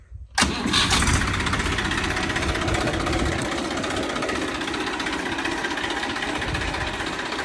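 A 2014 Massey Ferguson 241 tractor with 2292 hours on it cranks briefly, then fires up and settles into a loud, steady, rattling diesel idle close by, with no talking.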